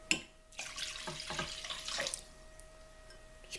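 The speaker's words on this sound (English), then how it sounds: "Just pour that over our butter." Water from a glass poured over freshly made homemade butter in a bowl, a brief splashing pour heard up close and alone, fading to quiet after about two seconds.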